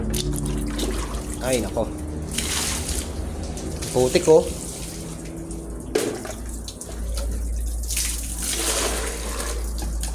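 Water from a tap runs steadily into a drum, a continuous splashing rush throughout, while a person talks briefly over it.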